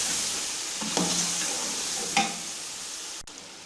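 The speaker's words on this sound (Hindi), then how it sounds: "और ये नमक ये डालेंगे और इसको अच्छे तरीके से फ्राई करेंगे, भूनेंगे।" Beef frying with salt and spices for dum biryani, a steady close sizzle with a few scraping stirs of the spoon and a brief sharp tap near the end, no talking.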